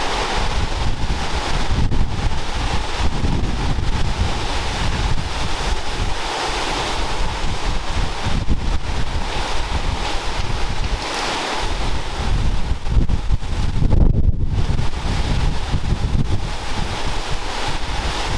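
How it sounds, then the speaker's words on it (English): Strong hurricane wind gusts roar continuously against a building, a loud, dense rush that swells and buffets throughout with no speech. "That was a big gust."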